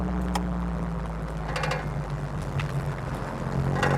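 A 1-litre VW Polo Mk2 drives along, its small engine giving a steady low drone from inside the cabin, with faint rattles and clicks over the top.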